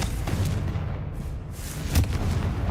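Confringo fire spell blasts in the PC game Hogwarts Legacy, heavy booming explosive bursts that rumble continuously, with one sharper blast near the end.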